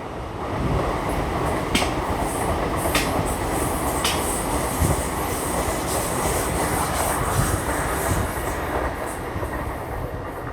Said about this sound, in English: Okay, there's a Class 800.